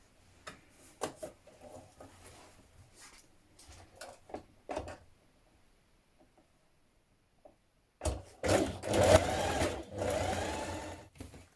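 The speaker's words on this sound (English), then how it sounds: "you're going to stitch your 2 front pieces together around this seam here" A sewing machine stitches two front dungaree pieces together along a seam. A few light clicks and handling sounds come first, then a short pause, then a loud, steady run of fast mechanical stitching.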